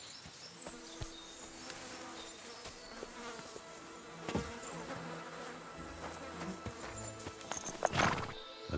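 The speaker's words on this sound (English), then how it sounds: "A horse? What's it doing here in the woods?" A horse stands in the woods in the video game Kingdom Come Deliverance, giving soft snorts and shifting hooves amid dense buzzing of insects and forest ambience, with a louder snort and rustle near the end.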